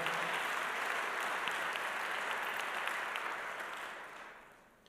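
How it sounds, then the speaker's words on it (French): A congress audience applauds steadily with dense, continuous clapping that holds full for about four seconds and then gradually fades out. "Thierry Wathelet, on peut déjà l'applaudir"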